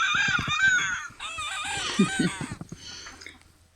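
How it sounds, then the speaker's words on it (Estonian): Harsh, repeated guineafowl calls ring out in a rapid, rattling series, fairly close, with a brief low voice mixed in partway through. "Taga on kuulda pärlkana hüüdu."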